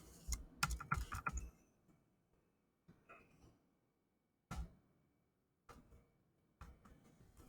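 Computer keyboard typing in short bursts of clicking keystrokes separated by pauses, close and fairly quiet, with no voices.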